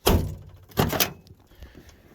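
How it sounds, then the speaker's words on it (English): A frozen door latch on a 1990 Ford F-250 with a 7.3 IDI diesel is yanked, giving two loud, close thunks less than a second apart, followed by fainter clicks and rattles. "apparently this door latch is frozen"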